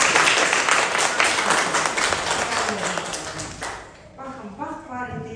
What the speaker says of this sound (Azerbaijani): Gəlin, qonaqlarımızı neyniyək, alqışlayaq, onlara xoş gəlmisiniz.